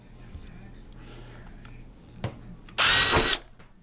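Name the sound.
power drill drilling a hole in a can bottom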